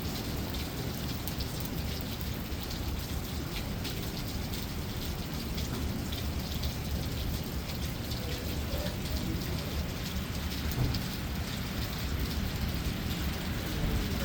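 Heavy rain pours steadily during a thunderstorm in Memphis, a dense continuous hiss and patter with low rumbling underneath, constant and loud for the whole stretch with no voices.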